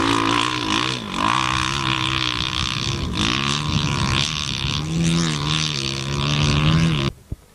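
Four-stroke enduro motorcycle engine at a 1994 Powys enduro, a loud, steady droning roar close by with rising and falling revs as the rider pushes on, cutting off sharply near the end.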